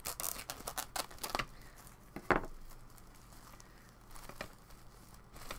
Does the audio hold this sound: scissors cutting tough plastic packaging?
yes